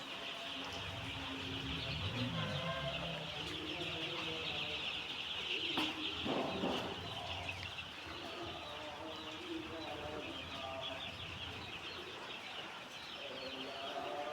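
Chickens on a poultry farm cluck and chirp steadily at moderate distance amid birdsong and general farm ambience, with someone talking intermittently over the flock.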